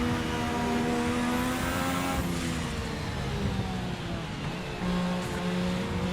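A 1986 Formula RSS F1 car in a racing video game, its engine droning loud and steady, rising and holding high revs as power builds, with gear changes breaking the pitch.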